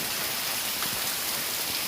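Steady, dense rain pours down outdoors near a mosque during a heavy downpour, a continuous loud hiss with no gaps and no voices.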